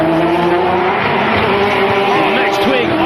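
GT race cars, including a Mosler, blasting through a chicane and bouncing over the curbs, with loud screaming engines shifting pitch close by and a short tire squeal while a commentator talks over them.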